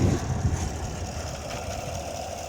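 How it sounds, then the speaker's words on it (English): A 2019 GMC Yukon Denali's 6.2-liter engine idles steadily nearby, a low, even rumble with a faint rattling hum and no voices. "Engine runs just fine."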